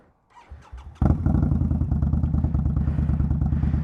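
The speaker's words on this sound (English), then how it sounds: "This bike features a set of slip-on pipes, so it's got a bit of a spicy exhaust sound." An Indian Scout cruiser motorcycle fitted with slip-on exhaust pipes cranks over with a few short clicks, then fires and settles into a loud, steady, lumpy idle rumble close by.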